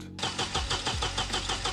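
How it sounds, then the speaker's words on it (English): A high-mileage car's engine cranks steadily but fails to catch, the starter turning over in a fast, even rhythm, loud and close with no talking. "The car didn't start."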